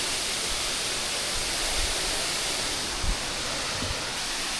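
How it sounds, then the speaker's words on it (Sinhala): Water falling at the foot of Bambarakanda waterfall in Sri Lanka, with a thinner dry-season flow, gives a steady, dense rush that holds evenly throughout, with a few soft low thumps and no voices. "ඔන්න දැන් අපි ඉන්නේ බඹරකන්ද දියැල්ල පාමුල"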